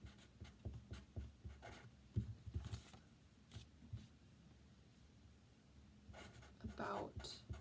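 Pen scratching across paper in short bursts of writing strokes, close and fairly quiet, with soft speech-like murmurs underneath and brief pauses between strokes.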